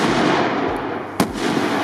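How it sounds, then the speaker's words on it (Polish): Exploder 4 firecrackers and fireworks going off as a steady dense crackling roar, with one sharper loud bang standing out near the end. "Lubisz Exploder 4 i inne petardy?"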